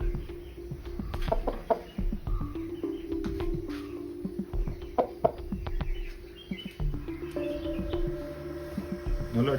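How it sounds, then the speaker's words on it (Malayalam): Backyard farm chickens clucking, short repeated clucks and calls close by over a busy yard background, with a few faint voices. "നല്ല അടിപൊളി കോഴിയാണ്"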